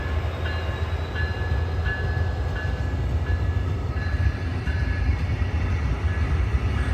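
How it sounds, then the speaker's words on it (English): A Brightline passenger train running on biodiesel rolls past near a station, a steady loud rumble with faint rhythmic rail clicks and a thin high whine, continuous and close with no voices. "What a beautiful train."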